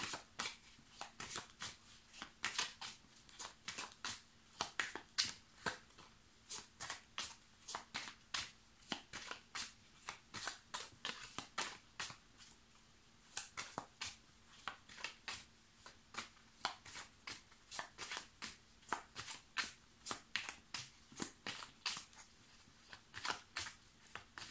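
Oracle cards being shuffled by hand, a steady run of crisp, rapid riffling slaps repeating at a regular rhythm, close and quiet, with no talk.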